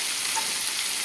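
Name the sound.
tempering spices frying in oil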